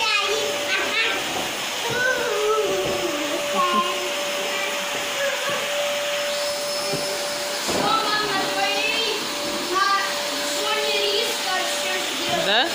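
A household vacuum cleaner runs steadily throughout, a continuous loud whine and hiss, with a voice and other people talking over it now and then.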